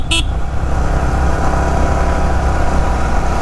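A Yamaha R15 motorcycle engine drones steadily up close, with a brief horn toot at the very start.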